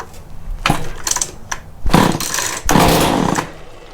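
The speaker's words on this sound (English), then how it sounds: "So I have it on choke. I have the plug in. Let's see what happens." A Mantis tiller's two-stroke engine, run with no muffler, is pulled over in several loud, harsh bursts before it catches and runs raggedly close by.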